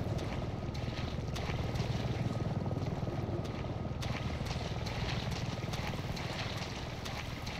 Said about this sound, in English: Oh, there's a helicopter somewhere.